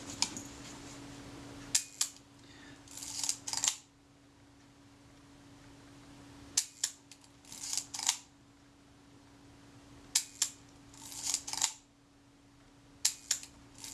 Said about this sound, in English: In an ideal world, the film release and the shutter fire at the same point.